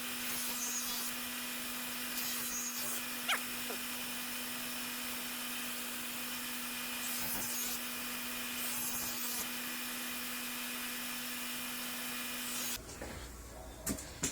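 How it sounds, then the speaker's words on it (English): Red polishing compound rubbed against a spinning homemade MDF knife-sharpening wheel, a steady motor whine with continuous rubbing hiss throughout, stopping near the end with a few faint knocks. "I'm going to rub that on the wheel, give that a little spin and see what comes off it then"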